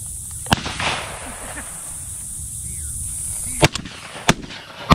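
Shotgun shots fired during a dove hunt outdoors: a single sharp bang early, then a cluster of three loud cracks later, each sudden and separate against quiet field ambience.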